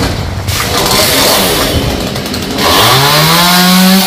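Close, loud chainsaw engine roars steadily while cutting through a king areca palm trunk, the pitch dipping under load and then rising into a high, sustained whine near the end.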